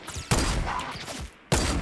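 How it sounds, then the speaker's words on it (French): Sniper rifle gunfire in a video game: two sharp, loud shots about a second apart, each followed by a dense crackling tail, with quieter background noise between. "Moi je suis en train de sniper le gars."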